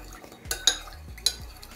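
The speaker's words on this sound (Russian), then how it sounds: "Хорошенько перемешиваем буквально несколько секунд." A spoon stirs a marinade of water, salt and sugar in a bowl, giving a few quick scraping clinks close by and fairly quiet, with no talk.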